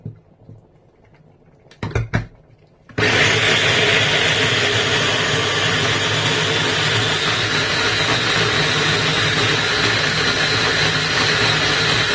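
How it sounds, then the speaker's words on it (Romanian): A blender whirs loudly and steadily as it purees boiled dried beans, starting abruptly after a few short clattering knocks and running unbroken to the end. "În acest blender voi blenda fasolea uscată fiartă."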